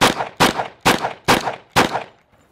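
Five sharp, loud pistol shots ring out from an AF2011-A1 double-barrel 1911, evenly spaced about half a second apart, each leaving a short ringing decay before the next, then fading to quiet.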